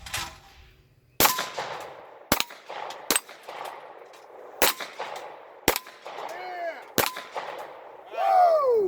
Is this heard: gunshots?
yes